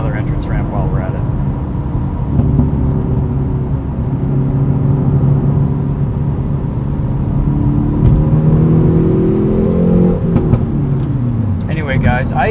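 A 2019 Hyundai Veloster N Performance Pack accelerates up an entrance ramp, its engine droning and rising in pitch through the gears, loud and steady from inside the cabin, with a person speaking over it.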